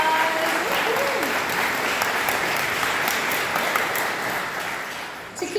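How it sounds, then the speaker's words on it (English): An audience applauds graduates in a sustained round of clapping that is dense and even and fades slightly near the end, with a brief voice at the start. "Let's go ahead and give Isabel and all of our grads a round of applause."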